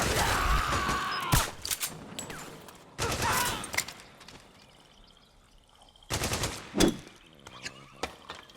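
Bursts of automatic gunfire from the Metal Gear Solid 4 video game come in three loud volleys with quiet gaps between them, plus a few single shots and faint mechanical clatter.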